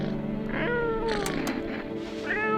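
Cat meows in the horror game No I'm Not A Human, several drawn-out mewing cries over a steady background of game music, loud and close with no talking.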